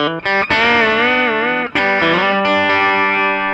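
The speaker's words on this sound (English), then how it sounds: "It's definitely what's in the Twin is a spring reverb." Clean electric guitar through a Fender Twin amp's built-in spring reverb set low, sustained chords and notes ringing loud and close, with a few quick re-picked changes and a subtle reverb tail.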